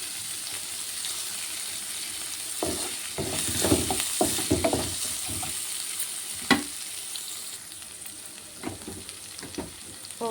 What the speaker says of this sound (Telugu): ఇప్పుడు మునక్కాయలు కూడా వేద్దాం